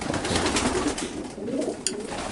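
Racing pigeon breeders coo inside a loft, a steady low murmur of overlapping calls filling the space at close range, with one brief sharper sound near the end.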